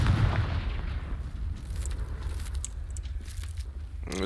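A Confringo blasting spell goes off in a video game as a heavy, booming blast, followed by rumbling, crackling debris and scattered sharp impacts that stay loud throughout.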